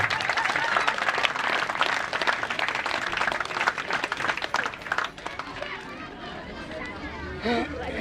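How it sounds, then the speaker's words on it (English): A crowd at an outdoor independence celebration in Pohnpei applauds a student association, sustained clapping mixed with crowd chatter that thins out midway as a voice begins speaking over lingering noise. "One more round of applause for the YEP Student Association."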